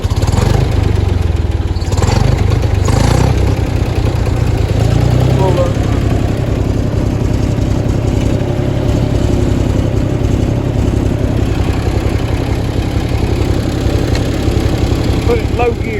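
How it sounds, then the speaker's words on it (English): An old tractor engine runs steadily in low gear at close range, a loud continuous low rumble throughout with some voice-like activity over it. "This old tractor runs pretty good."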